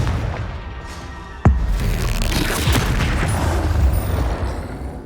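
A Confringo explosion spell goes off in a video game as a single sharp, loud boom with a burst of crackling debris, followed by a steady rumbling wash of game noise.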